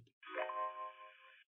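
A single synthetic VKontakte new-events notification chime with a bright, harmonic tone that rings for about a second and stops cleanly, heard alone.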